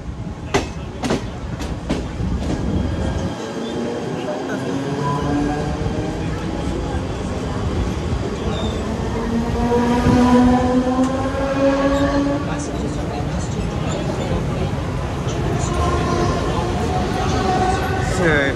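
A Mumbai local train on the Central Line rolls steadily with a constant rumble and rhythmic clacking of wheels over rail joints, while someone talks over the running noise close by.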